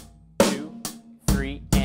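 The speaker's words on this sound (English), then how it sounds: "Now we're going to add on beat 3 an extra bass drum." A drum kit plays a sparse beat with sharp snare and cymbal hits over low kick drums, including a doubled bass drum stroke, close and loud with no talk.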